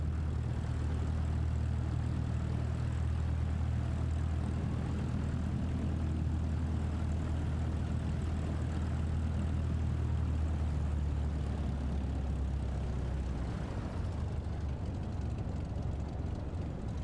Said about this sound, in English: there's a Boeing of some sort arriving at Liverpool